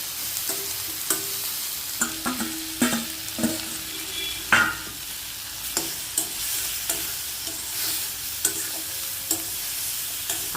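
Tomatoes sautéing in a pan for Madurai-style tomato chutney, with steady sizzle and frequent sharp scrapes and taps of a spoon stirring against the pan, close and alone.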